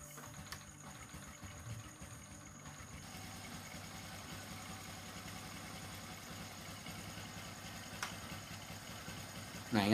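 A Honda Supra X 125 motorcycle engine idles steadily with a low, even rumble throughout, fairly quiet and unchanging.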